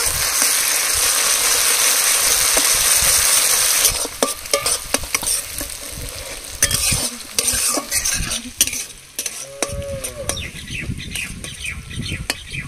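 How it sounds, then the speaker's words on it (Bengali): Garlic, cumin and chilli paste is sautéed in a pan for crab curry, a dense hiss of frying for the first few seconds, then irregular scraping strokes as a spatula stirs it close by. "এবার মশলাগুলো 2 মিনিট কষিয়ে নেব।"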